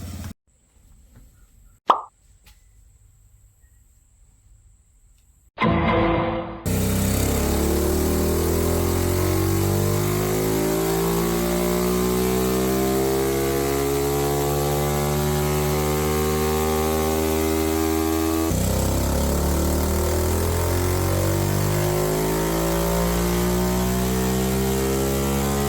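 A pit bike engine with an aftermarket carburetor is tested on a dyno. After a quiet start and a single pop, it roars into a loud, sustained rev that climbs steadily in pitch and stays close and continuous.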